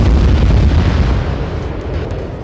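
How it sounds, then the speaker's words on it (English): Cluster munition explosions in the game ArmA 3: a loud rolling boom of overlapping blasts with heavy low rumble, fading slowly over a couple of seconds. "Cluster bombing is a highly destructive form of warfare."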